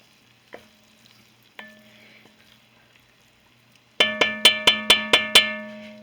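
A spoon scrapes through enchilada rice pilaf in a pan, with two sparse scrapes first and then a quick run of six sharp, evenly spaced metallic knocks and clinks.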